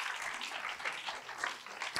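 A church congregation claps together in praise, a dense, steady patter of many hands filling the room for about two seconds, with a few sharper claps near the end.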